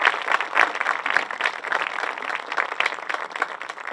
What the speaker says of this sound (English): Let's give another round of applause for these wonderful students.